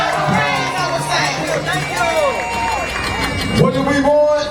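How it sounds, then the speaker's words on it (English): A crowd at a Chicago teachers' strike rally claps, cheers and whoops, loud and lively under several overlapping voices talking and shouting nearby. "Can we get a round of applause?"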